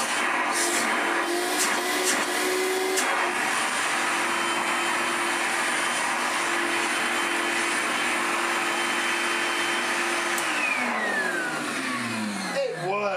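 Hoover Celebrity floating vacuum cleaner motor running, a loud, steady whirring whine that holds its pitch for several seconds before winding down near the end, with a person talking over it.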